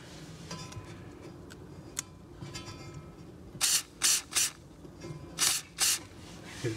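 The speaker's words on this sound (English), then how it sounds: "You're gonna hit that too with white lithium grease." White lithium grease sprayed from an aerosol can onto a Troy-Bilt Vortex Tracker 2890 snowblower, five short close hissing bursts after a few light clicks and handling noises.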